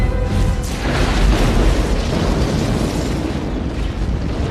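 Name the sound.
film nuclear bomb explosion destroying alien mothership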